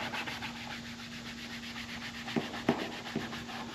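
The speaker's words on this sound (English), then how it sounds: "I'm gonna use my Scotch-Brite, my gray Scotch-Brite pad, to kind of just rough this thing up" A gray Scotch-Brite pad scuffs the factory valance of an NBS Chevrolet Silverado before painting, a faint, steady dry rubbing with a few short scrapes toward the end.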